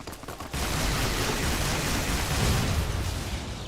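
A grenade explosion in the video game Fallout New Vegas erupts after a brief lull into a loud, sustained broadband roar with crackling debris that holds for several seconds.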